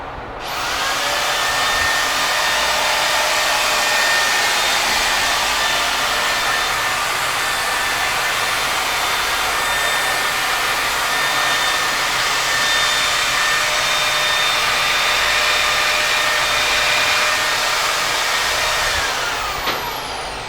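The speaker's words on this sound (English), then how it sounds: "Now we'll grind it off smooth and those will never come off." A grinder whines steadily and loudly for about twenty seconds, close by, as nail rivets are ground smooth on a horse hoof during a restoration. The tone stays even from start to finish.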